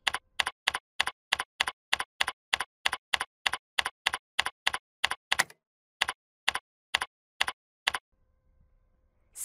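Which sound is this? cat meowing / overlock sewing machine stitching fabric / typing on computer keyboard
typing on computer keyboard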